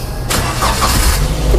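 Daihatsu Gran Max engine starting up after a brief lull, settling into a steady, loud, broadband running sound that continues to the end.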